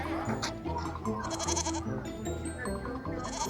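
Goats at the Phoenix Zoo bleating repeatedly in wavering cries, several calls overlapping at close range amid continuous barnyard noise and clanking.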